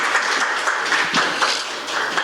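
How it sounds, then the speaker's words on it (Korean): An audience at a book talk claps to welcome a speaker, a dense, fairly loud burst of many hands with no voices over it. "오늘 또 뜨거운 박수로 모시겠습니다"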